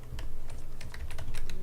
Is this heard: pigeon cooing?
no